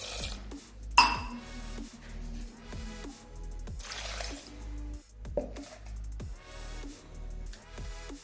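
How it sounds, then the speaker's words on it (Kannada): Two glasses of water are poured into a pressure cooker holding spinach and toor dal for Andhra palak pappu, a soft liquid splashing with a sharp metallic clink near the start and lighter knocks after. "ಇವಾಗ ಕುಕ್ಕರ್ಗೆ 2 ಗ್ಲಾಸ್ ನೀರು ಹಾಕ್ತಿದ್ದೇನೆ"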